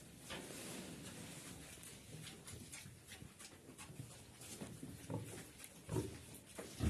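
A sow moved into a barn snuffles and grunts softly amid straw rustling and shuffling, close but quiet, with occasional louder snorts.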